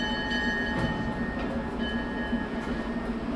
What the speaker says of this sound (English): the Hoosier Valley Railroad Museum promptly coupled the power to our train